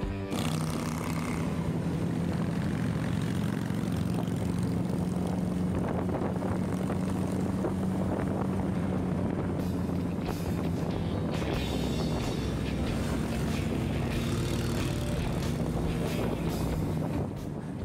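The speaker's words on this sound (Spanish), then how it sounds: "aquí escuchan ustedes ese ronroneo de las Harley Davidson, que es el galopar de los cascos del caballo cuando la moto está en mínimo" Several Harley-Davidson motorcycles idle together in a biker caravan at a bike week event, a steady, loud low rumble running continuously with wind buffeting the microphone throughout.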